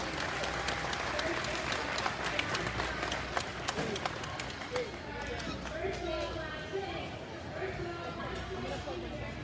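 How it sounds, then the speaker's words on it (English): Audience applause in an arena at a swine showmanship contest, a steady wash of clapping lasting the whole stretch, with livestock-show background noise and some voices mixed in. "give them one more round of applause"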